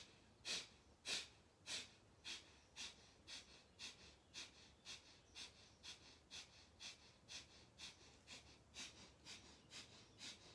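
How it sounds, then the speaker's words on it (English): Rapid yogic breath-of-fire breathing, roughly twenty sharp, evenly paced nasal exhalations pumped from the belly, close and steady with no talking. "breath of fire. In, out, in, out, in, out."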